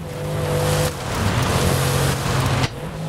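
A BMW's engine drones steadily in Forza Horizon 5, a sustained loud motor tone with brief shifts in pitch as it drives, no voices over it.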